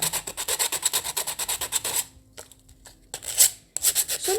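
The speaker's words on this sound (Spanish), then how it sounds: "Con una lija se puede sacar cualquier rebaba." Rapid back-and-forth scraping of sandpaper against plastic, removing burrs, rhythmic strokes close up, a brief pause, then a few more rasping passes.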